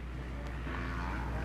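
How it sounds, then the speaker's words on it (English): 450 motocross bikes revving in celebration after a national championship race at Loretta Lynn's, a loud engine roar with a rising pitch, blurred by wind and crowd noise. "You hear the celebration revs going"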